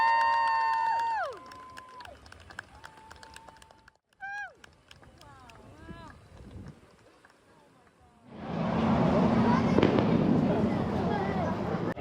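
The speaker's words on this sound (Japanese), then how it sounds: "今日は行ってない方のディズニーランドパークの花火がパークの外からでも見えますね" Fireworks over Disneyland Park crackle and pop from outside the park at night, a dense burst of bangs rising late after quieter chimes, whistles and scattered crowd noise.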